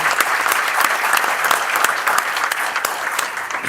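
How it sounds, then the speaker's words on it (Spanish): Enthusiastic applause from a conference audience, steady dense clapping throughout with no pauses, fairly close and loud. "Lo recibimos con un fuerte aplauso"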